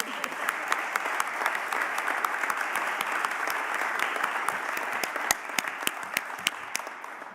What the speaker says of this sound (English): I never want to cut off applause.